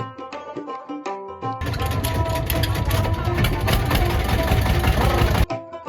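A passenger trawler's engine on a river crossing to a char in Bhola kicks in after a brief tonal passage, producing a loud, rapid, steady chugging rattle that holds for several seconds before cutting off.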